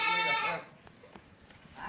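A goat in a farm shed on a rainy day lets out one loud, close bleat, followed by a quieter stretch with faint scattered clicks and a soft sound rising at the end.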